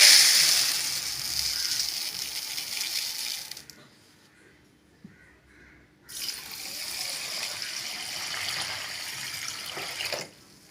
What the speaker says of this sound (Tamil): நல்லா ரெண்டு முறை கழுவிட்டு அப்புறமா நம்ம அரிசி ஊற வச்சுக்கலாம்